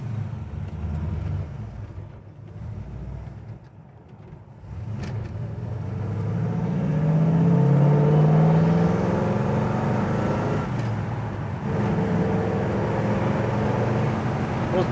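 A 1971 Chevy Nova cruises at speed, its engine droning steadily under a low road rumble, easing off briefly and then building again as it pulls through a shift.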